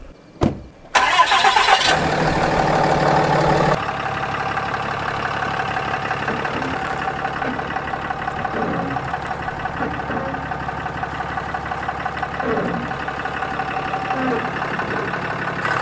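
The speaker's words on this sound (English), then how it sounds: "So I started to back up and get an angle on the camper" Truck engine cranking and catching with a few sharp clicks and a roar, then settling into a steady close idle and drive as it reverses toward a truck camper, with no one speaking.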